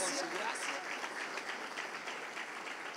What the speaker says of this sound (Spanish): Hay un aplauso a ese Dios poderoso, hermanos, que nos cubre con su gracia.